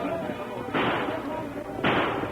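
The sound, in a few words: gunshots from horsemen firing guns, radio drama sound effect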